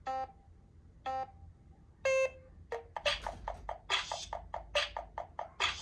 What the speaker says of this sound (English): let the time run up by pressing this green button right here, and this is how it sounds